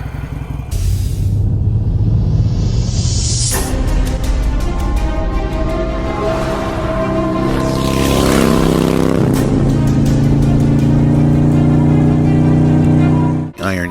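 A Harley-Davidson Iron 883 motorcycle pulls away in first gear and accelerates hard, the close, loud engine rising in pitch through rumbling revs, with wind noise building as speed increases.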